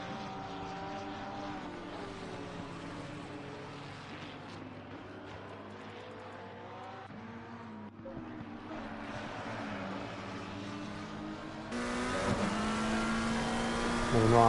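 GT3 race cars at Zandvoort in the video game Assetto Corsa Competizione, with layered engine notes rising and falling through gear changes, a continuous racing drone that grows louder near the end.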